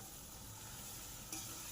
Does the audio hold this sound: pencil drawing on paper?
no